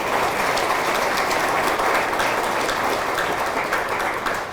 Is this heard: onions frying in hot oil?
no